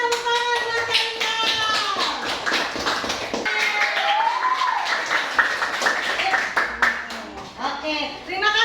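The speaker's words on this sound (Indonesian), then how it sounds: "tepuk tangan teman-teman" Classmates clapping hands together in a classroom, a run of sharp, quick claps with children and a teacher talking and calling out over and between them.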